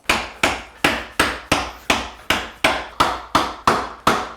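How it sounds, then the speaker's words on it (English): Twelve sharp, evenly spaced hammer strikes drive a wooden peg through a steel dowel plate to round it, each hit a loud, close knock that decays quickly before the next, with no talking. "With a dowel plate, we can force square pegs into round holes and get a nice clean surface on them."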